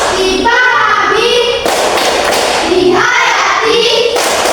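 Hands thumping and tapping on a Bible in rhythmic beats during a classroom chant, with children's voices speaking over the taps throughout.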